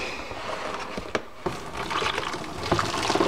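Cleaning solution poured with water into a wash for soft sculpture dolls, quiet liquid splashing and trickling with a couple of sharp clicks and knocks, no speech.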